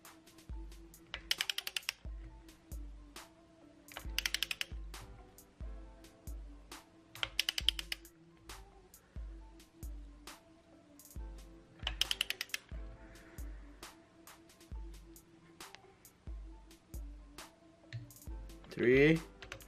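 A torque wrench tightening the camshaft caps of a Mitsubishi 420A engine in an Eclipse 2G build. Quiet, close ratcheting clicks repeat at an even pace, broken by a few louder bursts of clicking and a short metallic clatter near the end.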